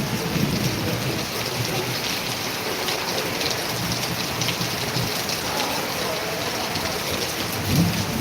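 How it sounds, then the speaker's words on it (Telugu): Steady downpour during a thunderstorm in Emmiganur gives an even, enveloping hiss of rain, with low thunder rumbling in the background and a brief swell near the end, and no one speaking. "ఉరుముల మెరుపులతో కూడిన వర్షం పడుతున్నాం అన్నమాట"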